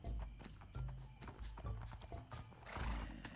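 Minecraft horses neigh and whinny repeatedly over a steady clip-clop of hooves, several animals trailing close together in the game with no talk.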